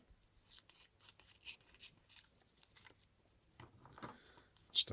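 Scissors snip through a strip of parafilm during a Revell 1:112 Star Wars X-wing model build, a few quiet, crisp cuts in an irregular rhythm followed by light rustling and handling.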